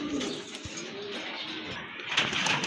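Soft, low pigeon coos, including male pigeons, amid a busy outdoor pigeon market background, with faint chirps and a brief low thump.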